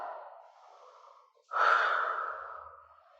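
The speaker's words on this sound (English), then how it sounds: "Breathing down, exhale up." A person breathes during Pilates squats: a soft, drawn-out inhale, a brief pause, then a stronger, forceful exhale that fades away. Close and alone.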